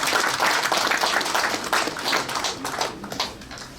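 Audience at a Korean church emergency prayer gathering in a hotel hall applauds warmly to welcome a pastor to the stage: dense, steady clapping throughout, fairly close and full, easing slightly toward the end.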